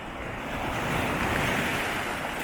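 Sea waves wash back off rocks below a lighthouse, a continuous close rushing surge with wind buffeting the microphone.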